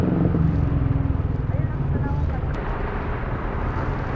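A motorcycle passes on a road during a ride near Laurel, Batangas, a loud engine rumble up close that slowly fades, heard over the rider's own engine and wind noise.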